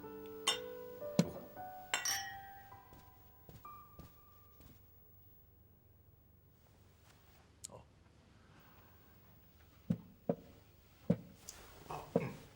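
Several sharp glass clinks ring out in a toast, some in quick pairs, with scattered quieter clinks and thuds between them in a quiet room.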